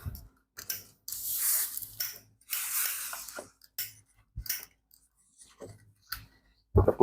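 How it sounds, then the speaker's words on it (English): Steam iron pressing tailored trousers under a fabric cloth, with repeated bursts of hissing steam and soft sliding and thumping of the iron across the cloth, separated by short pauses, close and fairly quiet. "So this is how you iron your trouser."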